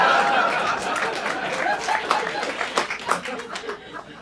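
A comedy club audience gives scattered applause mixed with chuckles and chatter, starting fairly full and thinning into a few uneven claps and laughs.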